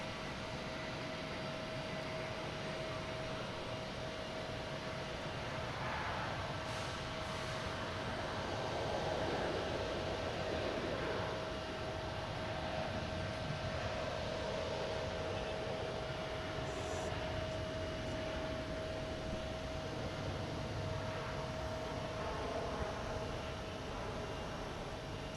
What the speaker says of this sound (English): It's on the runway. There it is. Flight 276 heading to Milan.